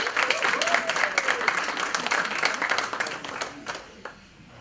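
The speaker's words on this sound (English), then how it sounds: "Another round of applause." Audience applause at a 2018 awards ceremony, a dense burst of clapping with a few cheers that fades away toward the end, heard at moderate distance.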